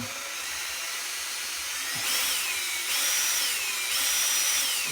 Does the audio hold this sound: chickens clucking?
no